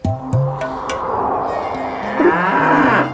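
A buffalo moos loudly and close, with long drawn bellows rising and falling over about three seconds, standing alone without talk.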